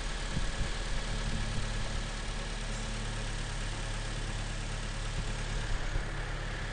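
A 2000 cc petrol car engine idles steadily and close, a constant low rumble with an even hum and no changes in pace, with no talking.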